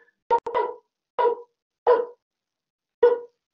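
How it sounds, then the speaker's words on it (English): A pet dog barks indoors in four separate bursts, the first a quick doubled bark, each short and loud with gaps of quiet between. "we'll just let him bark for a bit."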